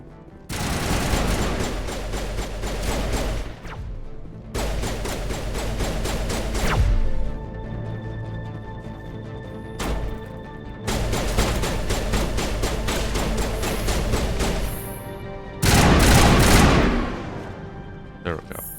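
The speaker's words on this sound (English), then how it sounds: "Why are you shooting at the wall?" Rapid automatic gunfire from a rifle in the video game Mass Effect, fired at a wall in several long, loud bursts separated by short pauses, with someone talking over some of the shooting.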